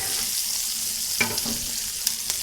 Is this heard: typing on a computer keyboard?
no